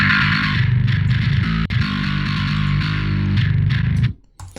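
Clanky bass guitar riff pushed hard into distortion in a metal-style mix, a thick, buzzing, gritty tone playing steadily for about four seconds before cutting off abruptly.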